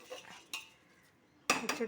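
Spoon scraping and clinking against a pressure cooker while soaked ration rice is stirred into biryani masala, three separate bursts of metallic scraping with quiet gaps between them.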